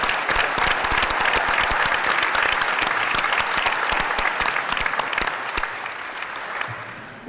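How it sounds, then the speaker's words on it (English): An audience at a state tourism summit claps in a dense burst of applause that holds steady for several seconds, then thins and fades near the end. "Let's give them a round of applause and thank them for their..."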